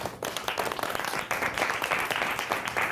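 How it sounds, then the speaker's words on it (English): A seated audience applauding as a guest named Lynn comes up on stage, a dense, even wash of many hands clapping, loud and close, lasting throughout with no talk. "Let's give Lynn a round of applause here"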